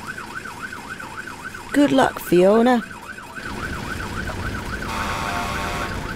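A cartoon fire engine's emergency siren wails in a steady rising-and-falling loop throughout, briefly drowned out by a short burst of voices and a sung phrase, then continuing alone with a brighter, busier layer near the end.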